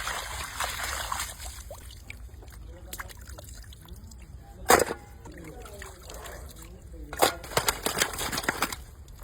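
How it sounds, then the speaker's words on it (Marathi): Whole cleaned tilapia being rinsed with water: a continuous trickle and slosh with occasional splashes, and a flurry of clattering, splashy handling near the end. "फिशची पण एक पाण्याने परत धुवून घेऊ"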